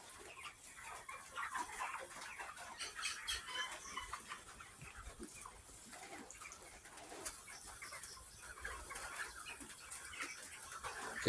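Thirty-five-day-old chickens in a dim poultry farm shed give faint, continuous clucks and soft murmurs from a crowded flock, steady with no talk.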